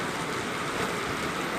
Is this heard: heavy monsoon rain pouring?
yes